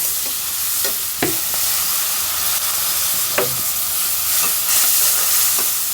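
Turmeric, salt and chili powder fry in oil with spinach, sizzling steadily under loud, repeated stirring and scraping strokes in the pan, with no talk.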